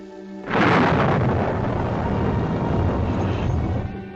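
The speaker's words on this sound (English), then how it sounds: "The storm lets up and the roads are passable." A storm in the Catskills sends a heavy rumble of thunder that breaks in suddenly and rolls on loud and sustained for several seconds, with no voices.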